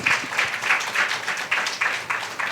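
A church congregation claps loudly to praise God, a dense wash of many hands swelling in rhythmic pulses roughly every half second, close and full with no one speaking.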